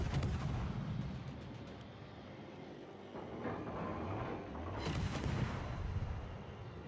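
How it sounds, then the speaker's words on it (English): Heavy, low booming explosions from torpedo hits in World of Warships rumble under a dense, continuous battle din, with a sharper crackling blast standing out near the end, fairly quiet overall. "Yeah, the torpedoes hit hard."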